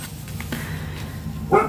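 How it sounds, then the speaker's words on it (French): A dog barks once or twice briefly in the background of an indoor setting, fairly faint and short, over a steady low hum. "Si vous entendez un chien aboyer, c'est normal."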